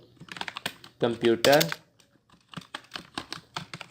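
Clicky computer keyboard keystrokes come in quick irregular bursts, close and clear, while someone speaks over part of the typing.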